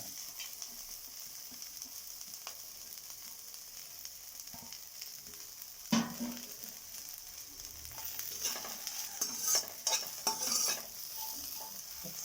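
Curry leaves, ginger, dried chillies and green chillies dropped into hot oil, a faint steady sizzle that jumps as the ingredients go in, followed by louder crackling and stirring scrapes, no talking.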